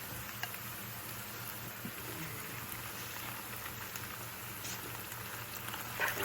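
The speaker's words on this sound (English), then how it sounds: "So I'm just going to throw the eggs right in there." Five eggs frying in a pan for a breakfast hash, a soft steady sizzle at low level with faint crackles and a light clatter near the end, no voices.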